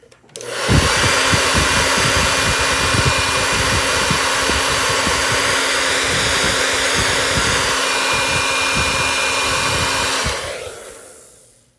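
A hair dryer runs steadily at close range for about ten seconds, drying a freshly painted DIY placemat and matching napkins, with a constant loud whirring hum that starts and stops abruptly.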